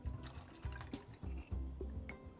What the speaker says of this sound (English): Gonna add a little bit of the water here